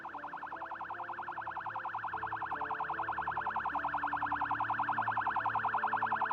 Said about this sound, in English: Player just turned this siren on and left it on.